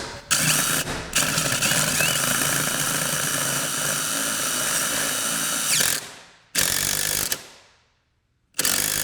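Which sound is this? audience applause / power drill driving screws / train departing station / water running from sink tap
power drill driving screws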